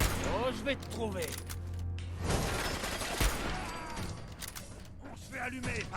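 Gunfire in the video game Fallout 4 crackles as bursts of shots and mechanical clatter, blending with game noise while a player talks over it.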